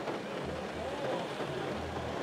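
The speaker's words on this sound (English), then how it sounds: "We're in Seattle, and it's raining." Steady rain falls in Seattle, a continuous broadband hiss that holds even and unbroken throughout, with low rumbling wind or traffic noise underneath.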